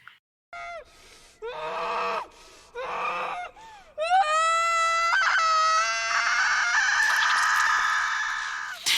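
A woman screams in a loud, sustained, strained howl in the horror film Immaculate, a nun in a blood-covered face and white dress fleeing for her life, preceded by several shorter anguished cries and gasps.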